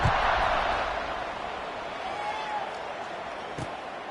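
Football stadium crowd at an SEC game roaring steadily during a kickoff, a broad wash of massed cheering that stays loud throughout with a faint announcer-like voice beneath.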